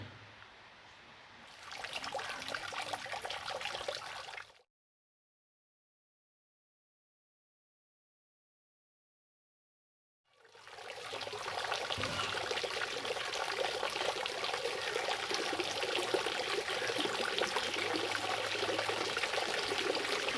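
Steady rushing spray of water spurting from a water filter system, close and fairly loud, cutting out into complete silence for several seconds before surging back and running continuously.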